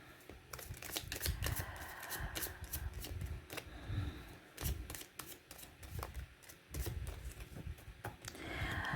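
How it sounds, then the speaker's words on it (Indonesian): A deck of tarot cards is shuffled by hand close up, giving a steady run of crisp riffling and flicking clatter with brief pauses and no talking. "sambil saya baca doa dan saya kocok kartunya"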